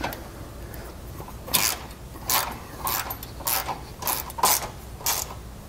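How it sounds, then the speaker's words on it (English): Ratchet wrench with a 5/8 socket tightening base plate bolts on a 2019 Jeep Grand Cherokee, giving about eight short bursts of clicking spaced irregularly over a low background hum, with no talking. "we're going to come in and we're going to tighten it. We're going to use a 5/8 socket."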